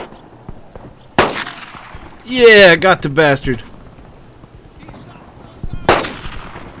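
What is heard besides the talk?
gunshots in video game Brothers in Arms: Earned in Blood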